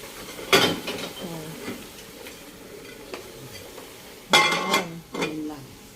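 A metal pot lid clatters and clinks as it is handled over a pot of chicken curry on the stove, with two louder bursts of scraping and knocking and soft sizzling between them.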